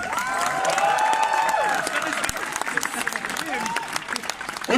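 A crowd at a street protest in Cologne-Deutz claps and cheers, dense applause mixed with shouts and raised voices, loud and close at first, then thinning into scattered claps and chatter.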